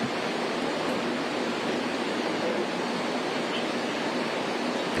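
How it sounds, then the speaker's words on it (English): Steady broadband rush of a waterfall, constant and unbroken, with even roaring noise throughout and no other sounds standing out. "We've got nothing else to do other than listen to Waterfall"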